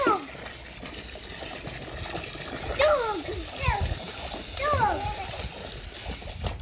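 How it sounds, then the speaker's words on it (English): A child stomps and splashes through water outdoors on a forest outing, with irregular splashes and gushes while children's voices and an adult's voice sound throughout. "Nice water stomping, Leon."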